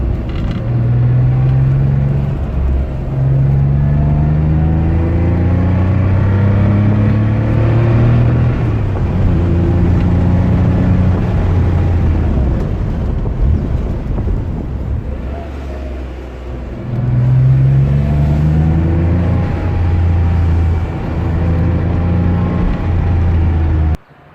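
Air-cooled Porsche 911 Targa engine while driving, a close, loud rumbling flat-six drone rising and falling through gear changes, with no voices.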